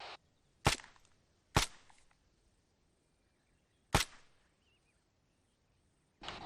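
Several sharp video-game gunshots crack out one at a time with gaps between, loud and close, each trailing a brief echo.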